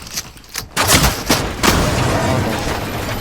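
Gunfire in a battle royale shooter game: a short burst of rapid shots followed by sustained, loud crackling fire and booming reverberation, close and continuous.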